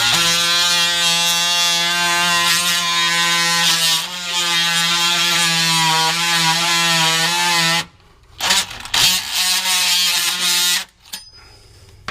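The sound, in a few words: oscillating motorized saw cutting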